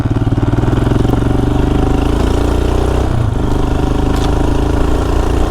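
Himalayan motorcycle engine running steadily before an off-road ride, a loud, close, even thumping idle with a slight dip partway through.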